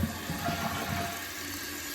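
A toilet tank refills after a float repair, a steady rushing hiss of water running continuously at moderate level, with no talk over it.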